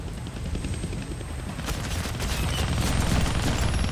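A helicopter in the Deadpool video game thrums as a steady, loud rotor wash, with faint rapid gunfire mixed in over the whole stretch.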